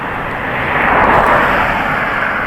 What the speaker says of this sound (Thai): จะมีเสียงรถเสียงอะไรบ้างข้างทางเนาะ